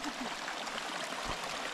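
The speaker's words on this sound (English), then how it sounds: "That's a lot of water coming down." Water pouring steadily down a stream on a rugged southern Utah hiking trail, a continuous close rushing and splashing with no pauses, heard alone.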